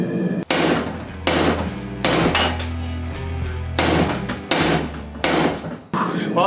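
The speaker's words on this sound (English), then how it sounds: "I'm going to be using an 8-pound hammer." Heavy 8-pound hammer blows forging twisted Damascus steel chisels ring out one after another at a slow, uneven rhythm, each a loud metallic strike with lingering ring.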